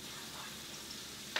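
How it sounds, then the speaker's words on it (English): String beans sautéing in bacon grease give a steady, soft sizzling hiss from close by, with a small clink near the end. "Just gonna lightly saute the beans."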